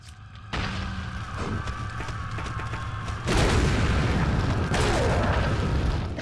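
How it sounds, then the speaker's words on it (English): Flashbang and grenade explosions in a video game, heard as a dense, loud roar of booming blasts and rumbling noise that swells and stays heavy, with no talking. "We're gonna flashbang. Then we're gonna grenade spam."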